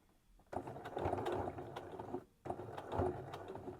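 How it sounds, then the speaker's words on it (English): A sewing machine stitches along a waistband in two quiet bursts of steady mechanical whirring and needle clatter, separated by a brief pause, heard up close with no talking. "I'm just going to carry on stitching till I get to the other side."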